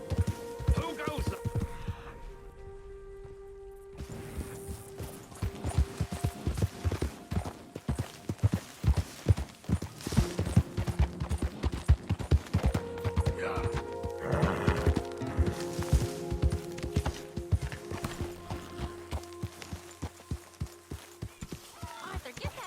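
Horse hooves clip-clop steadily in Red Dead Redemption 2, the rhythmic thuds running throughout at close range with occasional whinnies and characters talking over them.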